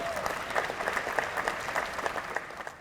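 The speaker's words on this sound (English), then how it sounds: "Let's give them another round of applause." Applause at a JROTC gala celebrating cadets: a steady, dense wash of clapping from a large seated audience, sustained evenly and moderately loud for the whole stretch.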